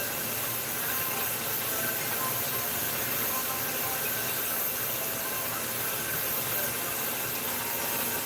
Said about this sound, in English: Alright, you see I drop it in there? Drop it there, it's frying.